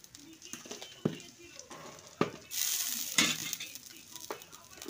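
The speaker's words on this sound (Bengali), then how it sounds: "ছোট ছোট দুটো ডিম পোচ।" Two small quail eggs frying in a pan, a soft sizzle with sharp spatula scrapes and knocks against the pan, while a person talks over it.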